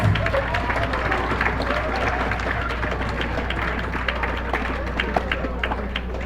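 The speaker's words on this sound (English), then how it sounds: "Give her a round of applause." An audience claps at a college soccer showcase info session, a dense, steady patter of many hands that holds for the whole stretch over a low background hum, with a faint murmur of voices mixed in.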